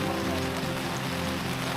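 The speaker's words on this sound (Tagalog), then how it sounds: "Kami inabot ng ulan na naman." Steady rain falls at a campsite, a dense even hiss of drops on surfaces, close and continuous with no break.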